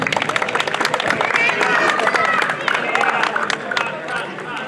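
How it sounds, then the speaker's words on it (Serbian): Applause for a village women's association at a local tournament awards ceremony: steady clapping from a crowd with murmuring voices mixed in, holding at a constant level throughout. "Jedan aplauz i za njih."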